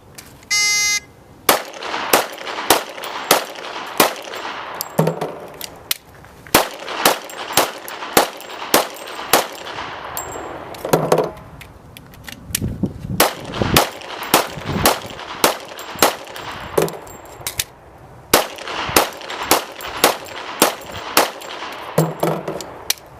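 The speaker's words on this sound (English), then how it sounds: "Now she'll demonstrate shooting 30 rounds with 6 rounds" A handgun fires thirty rounds in a sheriff's demonstration, six shots from each of five separate magazines. Loud, sharp reports ring out close by in quick bursts, with brief pauses and metallic clatter between groups as magazines are changed.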